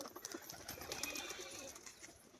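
A large male pigeon coos faintly in a quiet outdoor setting, with soft wing flaps mixed into a gentle, continuous bird ambience.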